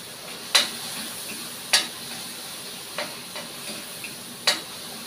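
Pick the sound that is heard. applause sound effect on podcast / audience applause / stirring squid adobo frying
stirring squid adobo frying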